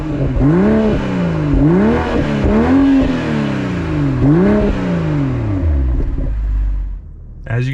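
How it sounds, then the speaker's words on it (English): A BMW M340i xDrive's B58 engine revs repeatedly in rising and falling sweeps, loud and close, then settles into a low idle rumble before cutting off. "As you guys could tell, the B58 is a great sounding engine."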